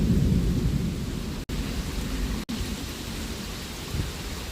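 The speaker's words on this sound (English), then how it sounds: "They just get hit by so much rain." Heavy thunderstorm downpour, a dense, steady roar of rain close by with deep rumbling underneath, briefly cut out twice.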